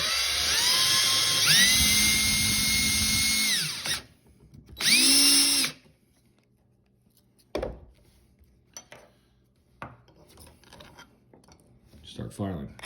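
A power drill whines loudly, spinning up and down in two bursts while drilling a hole in a Prevost awning window arm part, then quiet clicks and small tool sounds follow.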